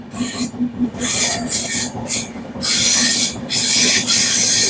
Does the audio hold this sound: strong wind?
no